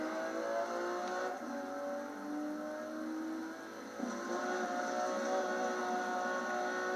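A racing car engine in the Forza Horizon 2 video game drones steadily and fairly loud, with a brief dip in pitch near the middle before it climbs again, continuous and alone without talk.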